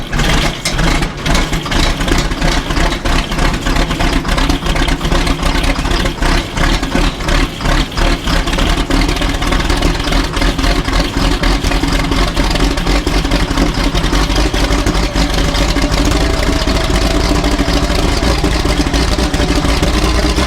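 A John Deere-style 9500 combine's engine after a cold start, settled into a steady, loud, rough idle with a constant low rumble and faint rhythmic clatter throughout, no voices.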